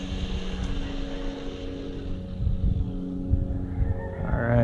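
A Laegendary 1/16 brushless 4x4 RC truck runs at full throttle on dirt, a steady mid-range motor hum with rising pitch near the end, fairly loud and continuous with no talk.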